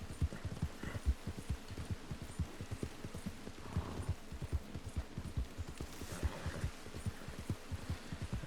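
Horse hooves pounding in Red Dead Redemption 2 as a rider gallops, a fast, steady run of dense thudding beats that stay close and loud for the whole stretch.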